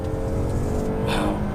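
A 2019 Toyota Avalon Touring accelerating in Sport mode, heard from inside as a steady engine drone and road roar that swells slightly, with a brief brighter whoosh near the end.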